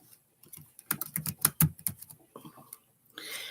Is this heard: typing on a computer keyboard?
yes